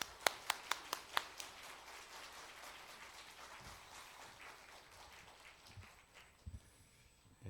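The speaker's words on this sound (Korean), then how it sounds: "우리 목사님 박수로 환영하겠습니다" A church congregation claps to welcome a visiting retired pastor back to his hometown church, opening with a few sharp claps before settling into a softer, steady wash of applause across the room.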